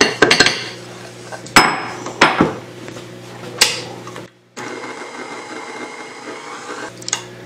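An electric mixer whirs through keto chocolate Yule log cake batter made with powdered erythritol, with sharp clanks of beaters against the bowl, then a steady close motor drone.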